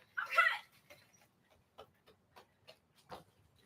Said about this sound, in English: I heard your puppies.